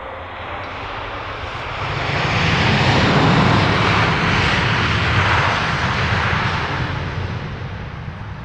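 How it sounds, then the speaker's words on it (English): A LOT Polish Airlines airliner, only on its third revenue passenger flight, touches down at Heathrow, its broad engine roar swelling to a loud peak partway through and then slowly easing off, with no voices. "Polish Airlines touching down on what is just its third revenue passenger flight"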